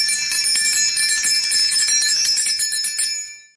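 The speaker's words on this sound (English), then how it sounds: "Every time a bell rings" A bright, high bell rings steadily for about three seconds, its shimmering tone sustained and close, then fades away at the end with no voices present.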